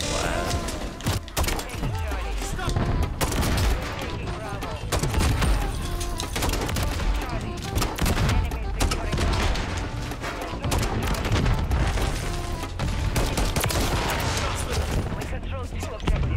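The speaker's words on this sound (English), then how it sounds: "Let's use our grenade launcher." Grenade launcher fire in Call of Duty MW3 amid a dense, continuous barrage of gunfire and explosions, loud and relentless throughout.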